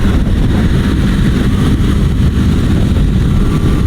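Loud, steady Honda CBR500R motorcycle engine roar with wind rush at about 70 mph near 6,000 revs, a constant droning drive at high revs without clear rises in pitch.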